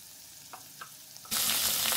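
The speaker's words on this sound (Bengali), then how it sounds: "আলুগুলো হালকা ফ্রাই হয়ে আসলে এবার দিয়ে দিচ্ছি পেঁয়াজগুলো।" Potatoes fry quietly in a pan with a few faint scrapes, then onions are added and a loud, close sizzle bursts out and continues.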